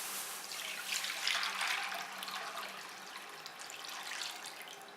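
About 1.5 litres of milk pours into a kadai (wok) on the stove for kulfi, a steady, soft splashing stream that rises and falls slightly for a few seconds with no talking.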